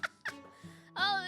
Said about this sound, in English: Oh, that's the sound of the seagulls.